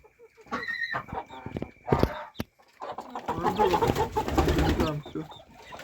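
Bantam chicks and hens in a backyard, a mix of peeping chicks and clucking hens in short bursts and a busier stretch of calls, with a person talking among them.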